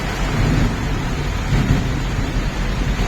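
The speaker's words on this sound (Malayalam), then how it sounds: "നല്ല മിന്നലാണ് കേട്ടോ." Heavy rain pours down during a thunderstorm in Kerala, a loud, steady roar of rainfall with low rumbling underneath that persists throughout, with no voices.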